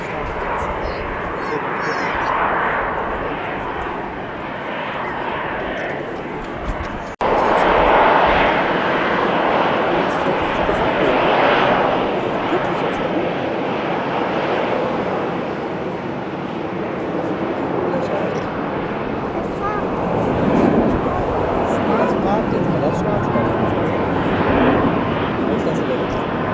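A jet airliner takes off at Cologne Bonn Airport, a steady broadband engine roar swelling around the seven-second mark and holding loud throughout, with people talking over it.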